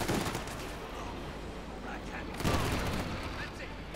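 Pak howitzer fire in a Company of Heroes 2 match, heard as crackling battlefield gunfire with a sharper burst near the middle, with a commentator's voice talking over the noise.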